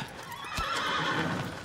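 A horse neighs in the video game Shadow of the Colossus on PS4, a clear whinny heard close and fairly loud over a steady game ambience, with faint hoof clip-clop.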